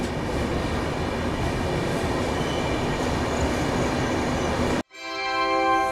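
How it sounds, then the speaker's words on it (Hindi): A train pulls into Kota Junction railway station in a steady, loud rumble of wagons that runs for several seconds, then cuts to a brief quiet platform ambience with faint tonal hum. "जो हमारी ट्रेन कोटा जंक्शन पहुँच रही होगी"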